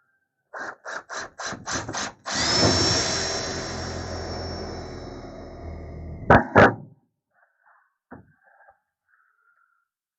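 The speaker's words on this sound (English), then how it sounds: "I'm just putting these self-tappers along the sides" A drill drives self-tapping screws into wooden support bars on a van ceiling: a few short whirring pulses, then one long sustained grinding whir, two more brief bursts, and faint knocks at the end.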